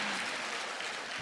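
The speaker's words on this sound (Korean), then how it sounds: "이게 박수 받아야 될 일인지는 모르겠는데" A church congregation applauding during a sermon, a short burst of dense, even clapping from many hands, somewhat distant and moderately faint.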